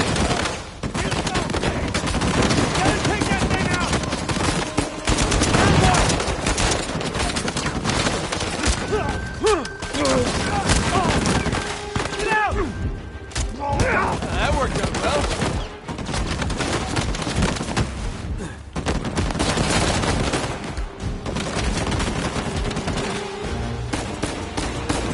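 Sustained turret gunfire in Uncharted, dense and loud bursts of rapid shots that run almost without pause, mixed with crashes and game sounds.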